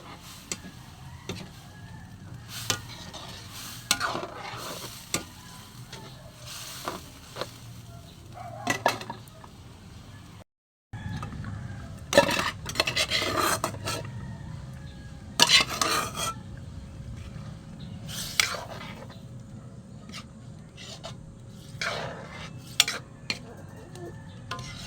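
Boiled mung beans go into a pan over a wood fire and are stirred, bringing repeated scraping and clinking of a utensil against the pan, with faint sizzling underneath.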